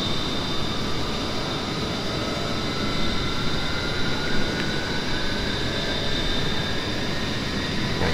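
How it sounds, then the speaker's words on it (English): An A-10C jet engine restarts in the DCS flight simulator game, a continuous airy roar with a thin, slowly rising whine running through it, steady and fairly loud with no voices. "but we've got engine start."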